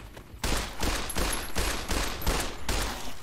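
Rapid bursts of gunfire from Fallout: New Vegas, rattling out in steady repeated volleys for several seconds after a brief quiet start, loud and close with no talking over it.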